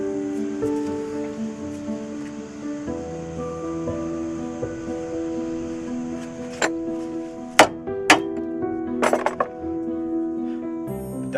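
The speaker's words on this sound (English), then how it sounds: "Get a bigger hammer." Metal-on-metal hammer strikes on the wheel bearing of a 2007 Volvo S40, several sharp ringing blows clustered late, over a steady tonal hum from nearby equipment or music.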